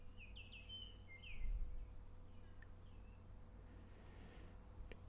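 Several short bird chirps and whistles ring out near the start, high and fairly clear, then fade into a steady hum of insects and crickets for the rest.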